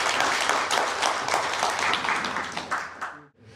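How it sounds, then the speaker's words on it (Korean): Audience applause welcoming a lecturer at a community center talk: dense, steady clapping from a roomful of people that fills the space, then cuts off sharply near the end. "박수로 환영해 주세요"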